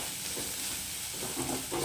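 Masala with garam masala is stirred and fried in a pan for a crab dish, giving a steady close sizzle with scraping stirring strokes and no voices.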